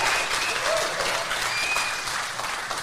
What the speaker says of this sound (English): round of applause for the Minifans.